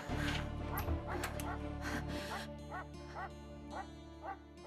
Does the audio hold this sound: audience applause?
no